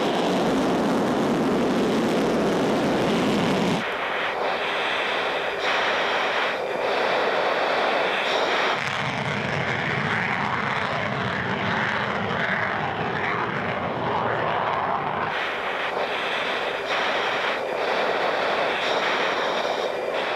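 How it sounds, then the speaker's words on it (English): Sukhoi Su-37 fighter jet with thrust-vectoring nozzles flying an aerobatic display, a continuous loud engine roar that shifts in tone between sections as it maneuvers. "Yevgeny Frolov has flown the Su-37 many times."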